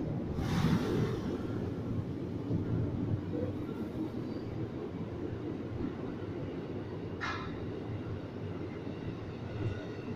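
A commuter train departing Manggarai station toward Jakarta Kota rumbles and rolls along the tracks, a steady heavy drone close by, with a couple of brief hisses rising over it.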